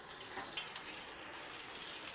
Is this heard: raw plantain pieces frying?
yes